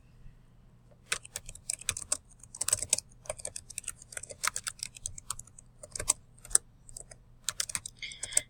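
Someone types on a computer keyboard in irregular bursts of crisp, close key clicks with short pauses between them, with no talking.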